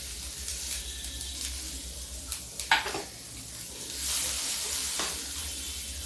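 Chopped onion hits hot oil already tempered with mustard seeds for an Indian gobhi sabzi, giving a steady close sizzle with a few sharp crackles and stirring clinks, no talk.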